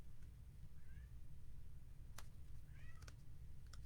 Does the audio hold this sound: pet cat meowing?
yes